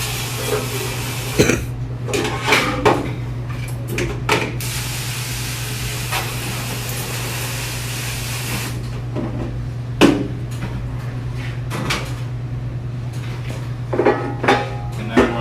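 Several short hissing bursts of spray come and go over a constant low hum as Duke broiler parts are sprayed off, with occasional clanks and knocks of metal parts in between.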